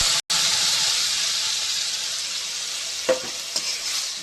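Tomato paste, green chilies and ground chili hit hot oil with fried onions, giving a loud steady sizzle and hiss throughout, with a brief gap near the start and a few stirring clatters later.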